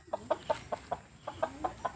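Chickens cluck in a series of short, sharp calls at an uneven pace, close by, with no talking.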